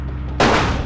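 A corrupt cop fires a gun in the video game Vampire the Masquerade: after a quiet lead-in, a sudden loud shot bursts in and its roar carries on, close and with no voices.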